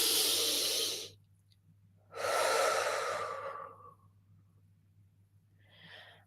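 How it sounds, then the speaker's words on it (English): Deep breaths drawn in and let out, two long airy breaths close to the mic in a quiet room, the second longer and fading, with a fainter breath near the end. "Take a breath in."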